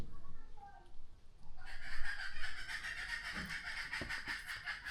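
Chickens cluck and squawk nearby in a rural yard, an agitated burst of fowl calls rising partway through and continuing, while people talk over the commotion.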